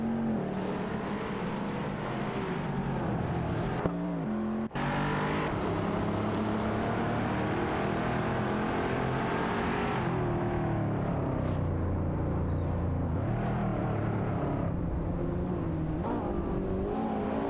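Racing cars in a video game race, including a Panoz Esperante GT-LM and a Ferrari Portofino, engines droning and revving continuously with shifting pitch as gears change, loud and close with a brief drop midway.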